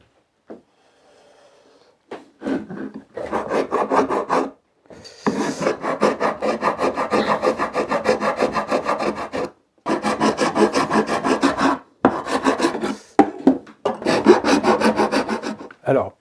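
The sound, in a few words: rasping wooden tenons to remove glue residue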